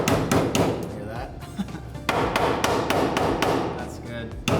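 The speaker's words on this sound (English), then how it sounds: "Pass me that hammer, please, mate." Steady, fairly loud hammer blows strike rusty metal on a Land Cruiser Chinook body in a quick irregular rhythm, each a sharp clank, with some voices underneath.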